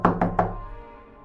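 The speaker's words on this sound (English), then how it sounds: "I knocked on the bathroom door." Three quick, hollow knocks on a bathroom door, evenly spaced and close, with the resonance dying away afterward.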